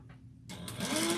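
A sewing machine stitches a crossbody bag, a short quick burst of mechanical whirring that starts after a brief pause and runs close and clear to the end.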